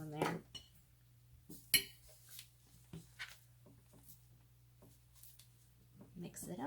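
Oobleck mixture stirred in a bowl, with clinks and scrapes of a utensil against the bowl at close range, interrupted by a person talking.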